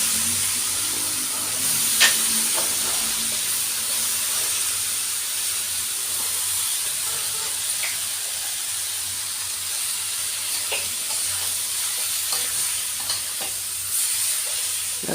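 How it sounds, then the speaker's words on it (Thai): Cucumber stir-fried in a hot pan gives a steady, loud sizzling hiss that runs throughout, with occasional faint scrapes of a utensil as it is tossed. "ใส่แตงกวาผัดผัดผัดแล้วก็ใช้ได้แล้วค่ะ"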